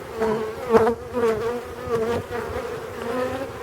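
Honey bees buzz steadily at an opened hive during a nest inspection of a colony that overwintered on six frames, a close, continuous drone with small swells in loudness and no talking.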